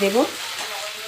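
Chopped tomato goes into lightly fried onions in a pan, a brief tonal clatter at the start followed by a soft, steady sizzle.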